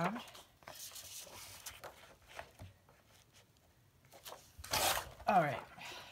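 Scissors snip through paper by hand for a journal craft, soft intermittent crisp cuts and rustles, quiet and close, with a louder crinkling burst near the end.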